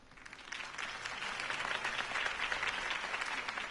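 A crowd applauds after a campaign speech by Harvey Dent in the Telltale Batman game, dense clapping swelling in from a quieter start and staying loud and sustained throughout.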